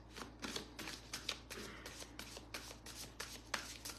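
Tarot or oracle cards are shuffled by hand for a single-card reading. There are repeated quick, papery riffling bursts in an uneven rhythm, close and soft.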